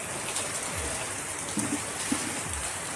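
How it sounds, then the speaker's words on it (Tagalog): Heavy rain pours down steadily at a rural home in the provinces, a dense, even hiss of falling water that holds unchanged for the whole stretch with no voices over it. "Pagdating lang namin sa bahay, biglang buhos na yung malakas na ulan."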